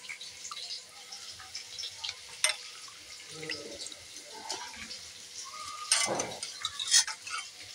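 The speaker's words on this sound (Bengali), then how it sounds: "কাজবাড়ির মতো খেতে লাগবে মাংসটা বেশ ভালো করে আমি ধুয়ে নেব" Raw chicken pieces are rinsed under a running kitchen tap while a Bengali chicken kosha is being prepared, giving soft, steady water flow with small splashes and a few brief clinks, fairly faint throughout.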